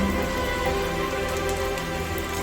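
Steady rain falling outdoors in a flower garden, a dense even patter on surfaces with no pauses, fairly loud and close, and no talking.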